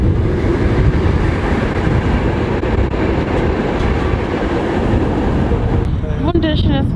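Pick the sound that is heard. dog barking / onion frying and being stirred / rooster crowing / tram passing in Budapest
tram passing in Budapest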